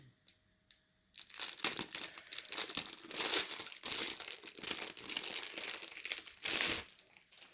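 Crinkly plastic packaging around a stylus being opened by hand, a close run of crackling and crumpling bursts after a brief quiet start, with tearing sounds mixed in.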